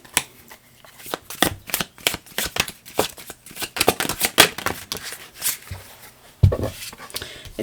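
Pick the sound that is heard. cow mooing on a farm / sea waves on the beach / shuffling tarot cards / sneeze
shuffling tarot cards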